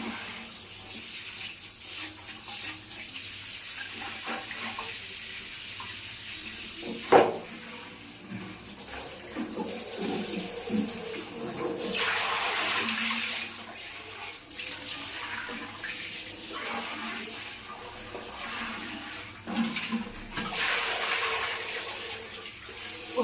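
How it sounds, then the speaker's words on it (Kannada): Tap water runs steadily into a bucket indoors, a continuous splashing rush that shifts in tone as the flow and level change, with a sharp knock partway through. "ಒಂದು ಚೆನ್ನಾಗಿರೋ ಬಕೆಟಲ್ಲಿ ನೀರು ಹಿಡಿದ್ಬಿಟ್ಟು ಒಯ್ದುಬಿಡು"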